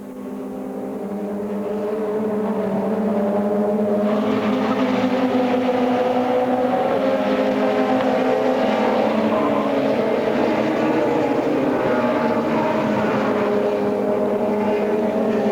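Touring cars racing on the final lap of a 2008 World Touring Car Championship round, a steady, loud blend of engine roar and crowd noise that swells over the first few seconds and holds throughout, with no talk.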